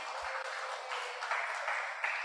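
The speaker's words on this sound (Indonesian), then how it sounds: "Tepuk tangan yang meriah bagi Tuhan" A church congregation claps together in sustained, lively applause, a steady dense patter from a crowd in a worship hall, moderately loud and continuous throughout.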